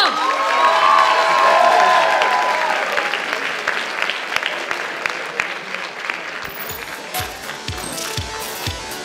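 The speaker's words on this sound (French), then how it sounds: "Applaudissez-la bien fort." Audience at a solo cosplay contest breaks into loud, sustained applause with some cheering, gradually thinning out over about nine seconds, with scattered claps near the end.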